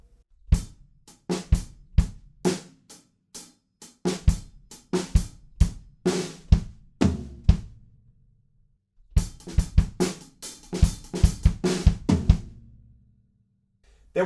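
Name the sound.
drum fill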